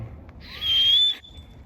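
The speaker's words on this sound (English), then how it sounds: "Oh, that was a dog whistle." A single short, high-pitched whistle blast, thin and piercing, rising slightly in pitch before cutting off abruptly, with quiet ambience around it.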